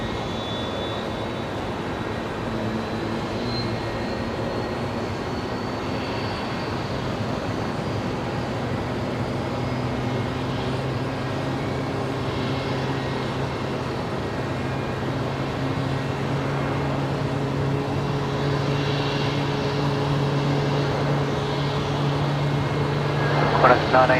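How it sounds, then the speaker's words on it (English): An airliner lined up on Runway 01 Right at Brisbane Airport for departure to Christchurch, heard at night as a long, steady engine drone with whining tones that swells slightly toward the end, with voices talking over it. "The next departure is now lined up, ready to go"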